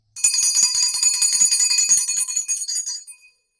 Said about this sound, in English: Now I'm gonna use my mom's bell.